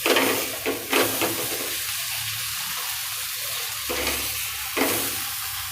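A thick malai paratha cooks in a pan over a low gas flame, giving a steady, soft sizzle broken by several louder, brief scraping and stirring bursts close by, with no speech.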